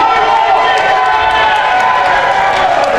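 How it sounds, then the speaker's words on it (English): A wrestling crowd at a live tag-team show cheers and roars in a loud, dense, continuous wall of voices that does not let up. "And the crowd are loving it."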